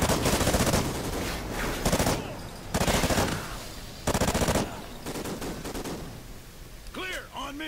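Automatic gunfire in Call of Duty: Ghosts, loud sustained bursts of rapid shots repeating in several long volleys, with other game sounds and a voice between bursts.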